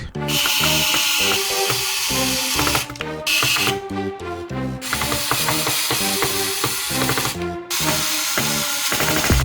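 A screwdriver drives the heatsink screws into a Lenovo ThinkCentre all-in-one computer, a loud, close rapid ratcheting clicking in repeated runs separated by short pauses.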